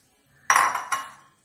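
Chicken pieces dropped into a metal pressure cooker give two quick clattering thumps close by, with a short metallic ring after each, in a quiet kitchen.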